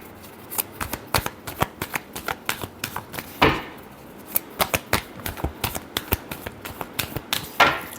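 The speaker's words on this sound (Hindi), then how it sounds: "last shuffle" A deck of tarot cards is shuffled up close, giving a run of quick, crisp riffling clicks and flutters in uneven bursts, with one or two softer slaps, and no voices.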